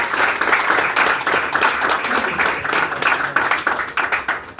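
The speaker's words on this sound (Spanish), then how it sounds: "Dale un fuerte aplauso al Señor una vez más" A church congregation gives the Lord a strong round of applause, dense steady clapping from many hands filling the room at an even loudness throughout.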